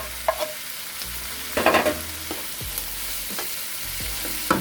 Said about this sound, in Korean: 이 정도 볶아줄 때 대파하고 홍고추 넣겠습니다.